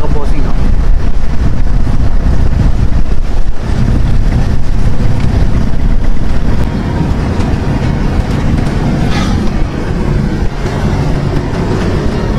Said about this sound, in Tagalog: buti pa ngayon parang nagkakaroon ng hangin